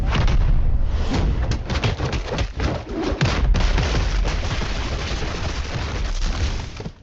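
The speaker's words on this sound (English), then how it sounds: "look at Choso's attack in Cursed Arena called Demon Claw" Demon Claw attack effects from the Cursed Arena video game: a dense, loud barrage of booming, crackling impacts and bursts rolling continuously for several seconds with no pauses and no talk.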